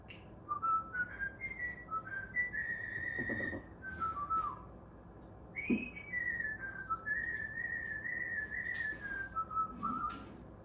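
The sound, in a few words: person imitating a cockatiel whistle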